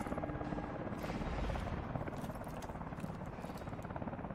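A helicopter's rotor thumps in a fast, steady beat in the video game Call of Duty, fairly loud and continuous, with no voices.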